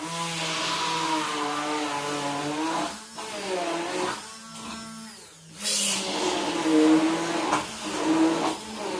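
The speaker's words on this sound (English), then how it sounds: "And we mix with the mixer." Electric kitchen mixer blending strawberries with sugar, a droning motor whine that shifts pitch, pauses briefly and starts again, close and fairly loud.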